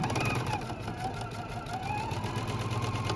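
A Husqvarna Viking Epic 2 sewing machine stitches half square triangle pieces, giving a steady, close mechanical whir with a fast rhythmic chatter that holds evenly for about three seconds, with no voice.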